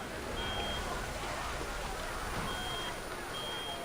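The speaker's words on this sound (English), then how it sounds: "What's that sound? Some kind of alarm?" An alarm from a shaking machine in Reverse: 1999 gives repeated long, thin beeps over a constant heavy roar and rattle that stays loud throughout.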